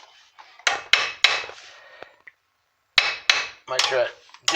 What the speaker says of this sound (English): And you want to get the hammer.